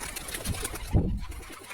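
Freshly bought Rampuri pigeons coo softly at close range, with a brief rustle or flutter partway through and light background noise.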